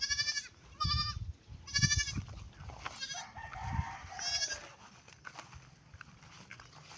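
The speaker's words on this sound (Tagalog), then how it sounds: "Ito naman yung bagong panganak, guys, sa pamangking ko kambing." Newborn goat kids bleating, several loud close wavering cries in quick succession, then quieter rustling and faint movement.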